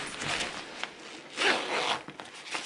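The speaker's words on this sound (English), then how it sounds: "On the underside, you've got this nice mesh pocket with a zipper." Zipper on the lid mesh pocket of a 2018 Osprey Exos 58 top-loading backpack being pulled open and shut, close and fairly quiet, with a few rasping strokes and no talking.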